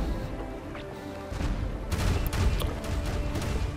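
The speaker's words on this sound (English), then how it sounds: "It's got the fire and whatnot. The brimstone cannons." Brimstone cannons on a heavily armed war galleon in Pirates Online, firing as a rolling volley of deep booms and cracks, loud and layered over a rumbling battle background with no talk.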